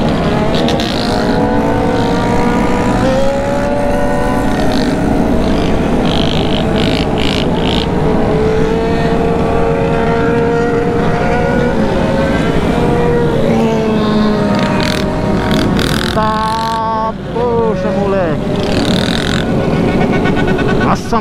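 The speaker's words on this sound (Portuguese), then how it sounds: "Nossa, mano, é moto." Large convoy of motorcycles riding together, a continuous roar of many engines with revving swells throughout, loud and close, with people shouting over it.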